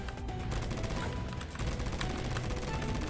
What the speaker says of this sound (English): Oh, revolver does some damage, though